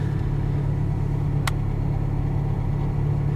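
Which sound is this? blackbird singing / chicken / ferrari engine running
ferrari engine running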